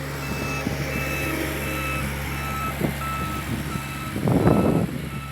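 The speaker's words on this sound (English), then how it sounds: "Tractor is passing by." A tractor passes beside a garden, its reversing beeps sounding as a repeating steady tone over a low engine drone, with a louder burst of engine noise near the end.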